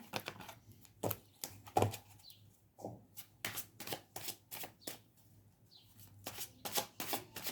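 Tarot cards being shuffled in quick riffling bursts, close and crisp, with short pauses between rounds and no talking.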